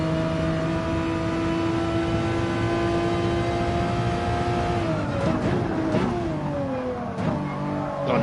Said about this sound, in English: the noise that this car makes is absolutely fucking wonderful